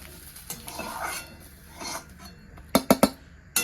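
Roasted onion, grated coconut and oil are scraped off a hot pan onto a plate, soft scraping followed by a few sharp metallic clinks of utensil on pan and plate.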